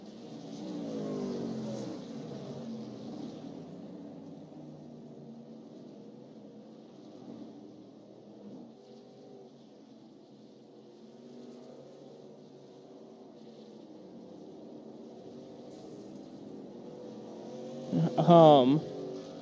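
Racing trucks in iRacing at Indianapolis Motor Speedway drone steadily with engine noise through the whole stretch, swelling a little toward the end, with a brief sharp tyre or engine whine near the close and commentary speaking over it.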